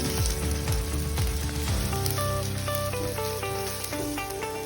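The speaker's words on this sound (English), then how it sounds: "If you add green chilies as such, they will splitter and harm you." Green chilies splutter and crackle loudly in hot oil, a dense continuous sizzle with sharp popping bursts, heard close and alone.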